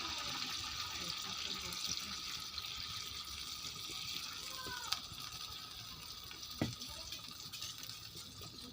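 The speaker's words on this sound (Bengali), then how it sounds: "এবার এখানে হালকা জল দিয়ে দিচ্ছি।" A little water is poured into chicken browning in a pan, giving a faint, steady wash of running and splashing liquid with a couple of small clinks against the cookware.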